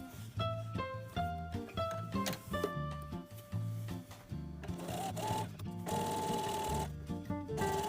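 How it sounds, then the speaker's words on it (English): A sewing machine stitching a skirt's pocket fold and side seam, running in several quick bursts of rhythmic mechanical whirring with short pauses between runs, close and fairly loud. "Sew right down to the pocket fold seam, keep your needle down, and turn your fabric so that you can finish the bottom of the side seam."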